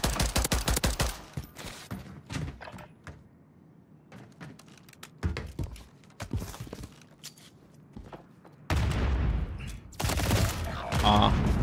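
Video game gunfire rattles in quick volleys, opening with a dense burst, thinning into scattered shots and footstep-like taps, then returning as loud close bursts near the end; a voice speaks intermittently between them.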